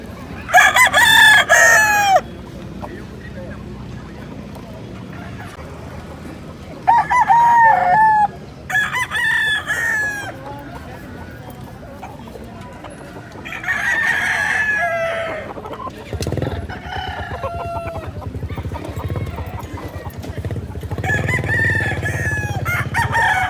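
Roosters crow repeatedly at a busy Friday chicken market in Bocaue, loud bursts near and farther off over a steady crowd murmur, with clucking between calls.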